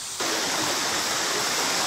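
Water rushes steadily through a forest in Jirisan, a dense, even roar of a stream or small waterfall that starts abruptly and continues loud and close without any voices.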